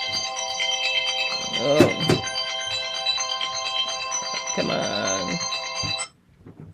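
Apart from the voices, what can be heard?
mobile phone ringtone going off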